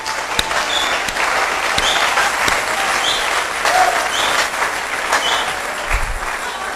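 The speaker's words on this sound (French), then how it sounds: "Acclamez." An audience applauds with sustained, dense clapping that stays loud and steady throughout, a large crowd heard close with no break.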